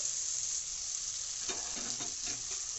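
Fried potatoes tipped into a kadai of cooked masala give a steady, moderate sizzle, with a few clinks and scrapes of stirring in the second half.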